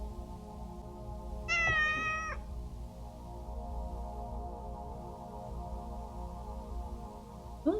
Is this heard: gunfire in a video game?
no